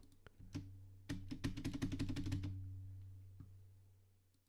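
Keys clatter on a computer keyboard that may be failing, with a few scattered taps followed by a fast burst of typing lasting about a second, then isolated clicks fading out, close and fairly quiet with no talking.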